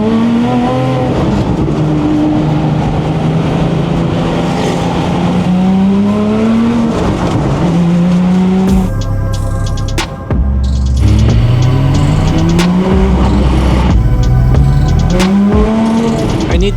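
A Ferrari 550 Maranello's engine, heard from close by, climbs loudly in pitch through long gears, with quick dips at each upshift before it pulls hard again, all with no talk over it.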